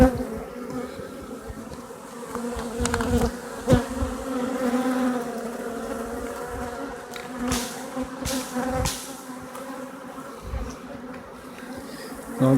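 A swarm of honey bees, a virgin swarm holding many queens, hanging near a ladder and hums in a continuous close buzz, with louder individual bees flying past now and then and no voices.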